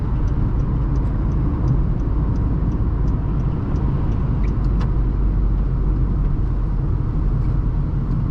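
A 2012 Honda Civic EX cruising along a road, heard from inside as a steady, continuous low engine and tyre rumble with no talk.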